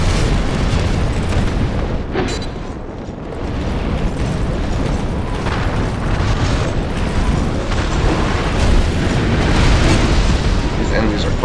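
Barrel carriers blowing up in a video game produce a dense, continuous roar of rumbling explosions and bursts, loud and unbroken for the whole stretch.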